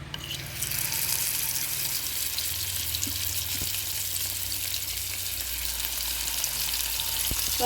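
Avoli (pomfret) fish frying in hot oil in a home kitchen, giving a loud, steady, continuous sizzle for the whole stretch with occasional faint pops and no talking.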